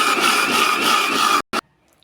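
A mixer grinder whirs loudly and steadily as it grinds grated coconut with water, cutting off abruptly, then giving one short burst before falling silent.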